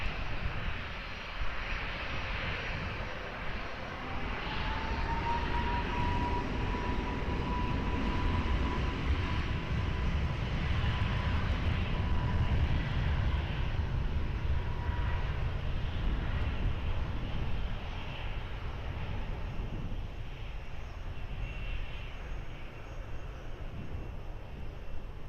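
An airliner takes off from runway 20 at Lisbon Airport, its engines a loud, sustained broadband roar that builds and holds steady, with a faint rising whine, then slowly fades as it departs.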